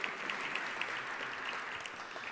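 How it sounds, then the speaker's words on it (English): Audience applause at an anniversary celebration program, a brief burst of steady clapping from a modest crowd heard at a moderate distance. "That's worth clapping for."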